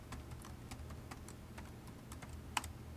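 Typing on a computer keyboard while coding in Python: a quiet run of light, irregular key clicks, ending in one slightly sharper keystroke like an enter press.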